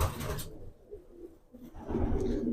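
Pigeons from a Punjabi loft, including a red cheeni bird, give low murmuring coos close by amid a rustling, shifting background, with no talk.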